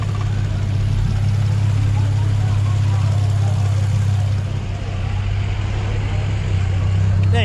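An Infiniti G35 engine runs steadily at a low idle rumble after a crash that bent a wheel rim, close and continuous, with faint background noise.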